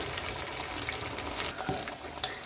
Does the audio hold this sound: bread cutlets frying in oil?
yes